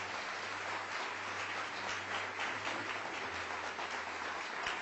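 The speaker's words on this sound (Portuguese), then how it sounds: "vamos aplaudir mais ao nome de Jesus" A church congregation applauds during an evangelical sermon, making a steady, rain-like wash of many hands clapping together, distant and fairly quiet throughout.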